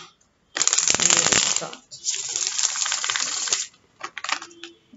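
Tarot cards are shuffled up close in two crisp riffling bursts, with a short pause between them, and a voice speaks briefly during the shuffling.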